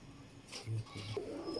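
A golden pigeon coos softly in a few low, rounded notes over a faint background hiss, with no voices heard.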